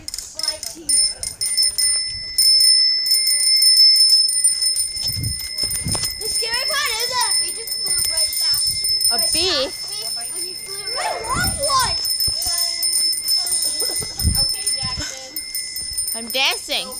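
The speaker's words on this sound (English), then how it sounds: "And don't ring the bell." A bell rung repeatedly in quick bright dings, ringing out steadily over lively talking voices and background movement.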